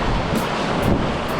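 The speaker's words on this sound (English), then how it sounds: "look at this wave" Ocean surf breaks and washes steadily, a continuous broadband rush with gentle swells and some wind noise over it, no voices.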